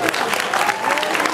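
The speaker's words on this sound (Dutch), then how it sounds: "Applaus voor beide vechters." An indoor kickboxing event crowd in Zwijndrecht claps for both fighters in a short, dense burst of applause that holds steady at full loudness for its whole length.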